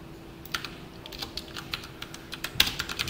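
Quick, irregular clicks from a computer keyboard, close and fairly crisp, as C code is typed, with no voice over them.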